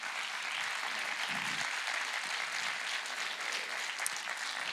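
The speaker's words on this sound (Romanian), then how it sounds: "aplauze," Steady, continuous audience applause fills a live concert in Mioveni, Arges, a dense and even patter of many hands clapping with no talk over it.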